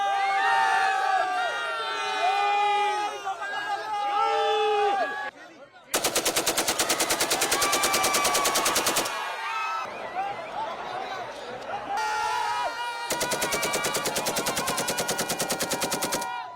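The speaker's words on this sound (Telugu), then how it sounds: "జిల్లా ఎస్పీ సారు 3 రౌండ్లు గాలులకు కాల్పులు వేసి సమ్మక్క తల్లికి స్వాగతం చెప్పిర్రు." Ceremonial gunfire into the air welcoming Sammakka at the Medaram Jathara festival comes as two sustained, rapid, loud bursts of shots, separated by crowd noise and cheering.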